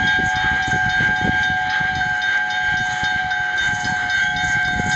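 A steam train in a video game hisses and whistles steadily with a chugging rumble underneath, a continuous loud mechanical departure with no voices.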